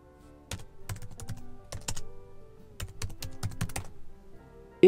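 Fingers type on a computer keyboard, tapping out a short search in quick irregular bursts of close, crisp keystrokes with brief pauses, ending on one firm, louder key press.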